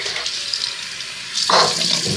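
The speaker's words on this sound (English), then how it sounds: "You better rinse out your mouth." Tap water runs after a dare, used to rinse out a mouth, starting partway through as a steady rushing stream that follows a quieter stretch of faint hiss.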